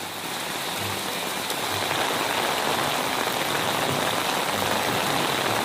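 Heavy rain pours in Rio Preto, Brazil, a dense, steady hiss of drops hitting surfaces that holds at constant loudness throughout, with no talking.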